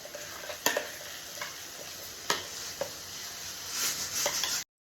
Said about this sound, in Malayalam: സവാളയും തക്കാളിയും ഒക്കെ ഇടയ്ക്കിടയ്ക്ക് ഞാൻ വഴറ്റി കൊടുക്കുന്നുണ്ടായിരുന്നു